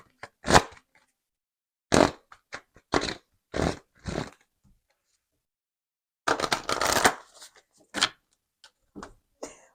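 Oracle message cards are shuffled by hand in a quiet room, crisp papery riffles and slaps coming in short separate bursts with gaps between, one longer flurry near the end.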